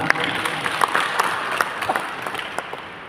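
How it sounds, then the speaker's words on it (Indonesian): A crowd claps for a few seconds, a dense patter of hands with some louder individual claps standing out. "Kita kasih tepuk tangan."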